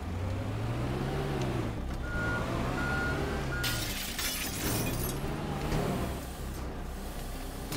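A small vehicle in the game Teardown rolls through a noisy scene as a reversing alarm beeps steadily, while loud crashes and shattering debris cut in partway through.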